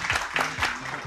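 Studio audience on a Turkish family TV game show claps together, a short burst of dense applause with a few sharper hand claps, moderately loud and close.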